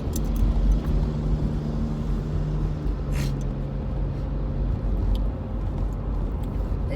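An SUV speeds past on a road near utility work, a loud continuous engine and tyre roar close by that swells briefly and fades, with no voices.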